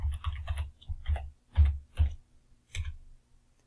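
A computer keyboard is typed on in short bursts of sharp, close clicks with brief pauses between groups of keystrokes, in a quiet room.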